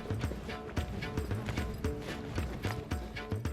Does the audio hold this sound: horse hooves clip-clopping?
yes